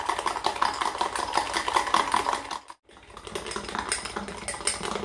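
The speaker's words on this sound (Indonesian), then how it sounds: "Itu dikocok terus ya, jangan kasih kendor ya" Egg is whisked rapidly in a bowl for Minang-style egg tea, a fast continuous rattling clatter with a brief pause midway before resuming.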